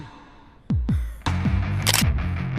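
Camera shutter clicks in the video game Troublemaker 2, a few sharp mechanical snaps layered over booming game thuds and a low pulsing throb, loud and close with no speech.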